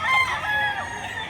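Chickens and roosters crow together at a chicken market in Lipa, Batangas, giving a dense, continuous layer of overlapping calls at moderate loudness with no talk.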